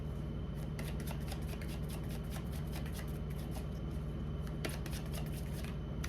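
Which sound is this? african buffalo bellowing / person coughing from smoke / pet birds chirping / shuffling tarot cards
shuffling tarot cards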